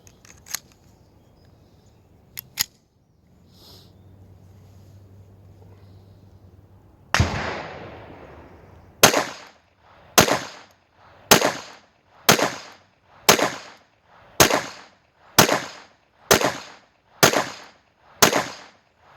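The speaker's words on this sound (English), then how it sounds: "First up is the Walther PPK in 22 long rifle. Let's see how it shoots." A Walther PPK/S .22LR pistol firing at a shooting range: after a few faint clicks and handling noises, about ten sharp, loud reports ring out alone, spaced roughly a second apart in a steady rhythm.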